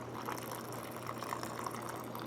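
Water poured into a French freeze-dried individual ration pouch makes a faint, steady trickle and fill sound, continuous and close, with no voices over it.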